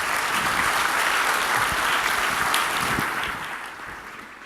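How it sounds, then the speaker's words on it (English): An audience applauds the panelists after a ministerial dialogue session at a conference, a sustained round of dense clapping from a sizable crowd that holds steady, then gradually tapers toward the end. "A big round of applause, please."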